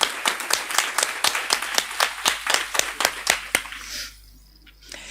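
A conference audience claps in thanks to the AV crew, a burst of even, rhythmic claps that fades out after about four seconds.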